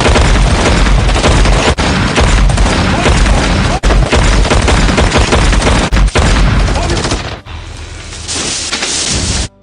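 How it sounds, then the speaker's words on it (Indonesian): Sustained, loud gunfire fills a scene from the 2013 horror film Hatchet III, with dense overlapping shots and booms that run for several seconds before easing into a quieter stretch near the end. "Tanpa pikir panjang, mereka pun langsung menembaknya."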